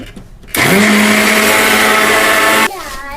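A mixer grinder grinding rice starts abruptly with a loud, high motor whine, runs steadily for about two seconds, then cuts off.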